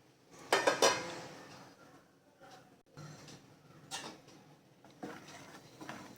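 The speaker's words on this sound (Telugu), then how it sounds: "చామదుంపలు కూడా ఇందులో వేసేయాలి." Taro roots tumble into a cooking pot for buttermilk rasam, giving a few clattering knocks and scrapes against the metal, followed by quieter stirring sounds in short bursts, close up with no voices.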